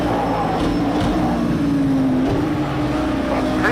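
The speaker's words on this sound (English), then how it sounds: "Hear the engine." A race car engine in a racing video game drones steadily and loudly, holding a sustained pitch that dips and climbs slightly with throttle, with no talk over it.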